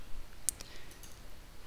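A single short, crisp computer mouse click lands near the start, set against quiet room noise.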